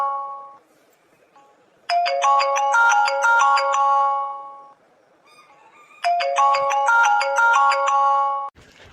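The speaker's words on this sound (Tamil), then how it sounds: "என்னது ரிங் அடிக்குது," A mobile phone call's ringing tone plays as two loud bursts of a bright, repeating melodic chime, separated by a quieter pause with a faint lower tone, ending with a brief soft sound.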